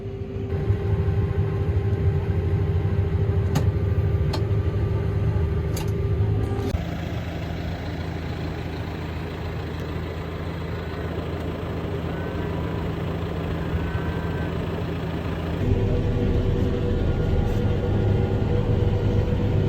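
A steady, low engine drone from an orange tractor runs throughout, like idling close by, with its pitch dropping briefly in the middle before rising again.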